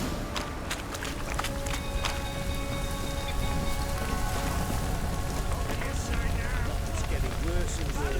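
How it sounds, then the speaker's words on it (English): Steady rainfall in The Witcher 3 game world hisses across the whole clip as a dense, continuous wash, with faint footsteps and occasional voices mixed underneath. "Looks like rain."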